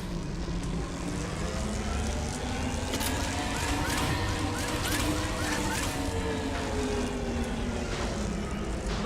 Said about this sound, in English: Navigating this storm is brutal.